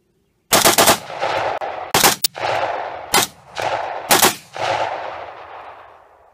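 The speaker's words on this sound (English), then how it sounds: "I was bump firing." A Norinco Type 97 rifle is bump fired outdoors in four loud, close, rapid clusters of shots, each burst trailing off in a long rumbling echo before the next one starts.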